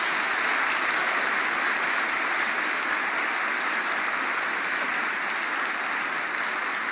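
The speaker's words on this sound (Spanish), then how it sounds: "quiero pedirles un aplauso en homenaje a Elba, a Celina y a los padres jesuitas" Sustained applause from an audience at a presidential forum held at the UCA in El Salvador, steady and loud dense clapping for the whole stretch with no talking over it.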